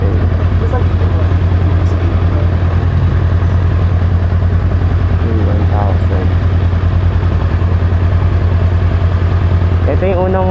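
A rider's first motorcycle, fitted with its stock exhaust, rumbles steadily through a night ride, with a loud, constant low engine drone and wind noise throughout and a few short voices cutting in near the end.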